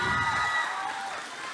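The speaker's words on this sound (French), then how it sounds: "Est-ce qu'on peut applaudir Chaton, le helper, s'il vous plaît?" Audience at a cosplay contest applauding and cheering, a dense crowd roar with whoops that peaks at the start and slowly fades.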